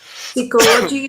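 A single sharp sneeze bursts out in the middle of a classroom exchange, close and loud, with a voice speaking just before and after.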